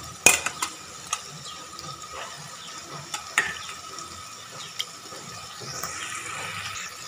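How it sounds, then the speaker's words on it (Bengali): Boiled mutton stirred into fried spice masala in a pan for a Bengali mutton curry with potatoes, giving scattered clinks of a spoon against the pan and soft scraping over a low background, with no talk. "কষানো মশলার ওপর দিয়ে দেবো আমি সেদ্ধ করা মাংসটা"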